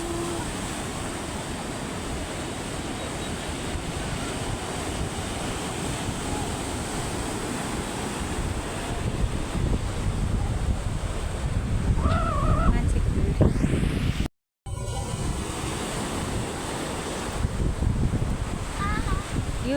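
Ocean waves washing onto a crowded beach in Odisha, a continuous surf roar with wind buffeting the microphone, close and loud, with a brief dropout near the end.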